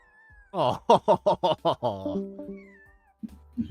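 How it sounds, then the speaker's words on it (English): A meow button on a livestream plays a series of about six quick, loud cat meows, then a short tonal sound and a couple of softer bursts near the end. "We also have her dedicated meow button"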